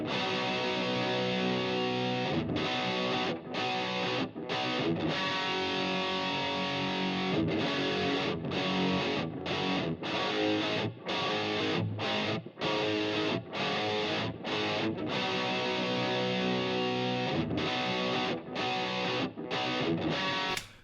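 Heavily distorted rock electric guitars, double-tracked, with the top end spread wide in the mix, play dense, loud power chords that stop in short rhythmic breaks throughout.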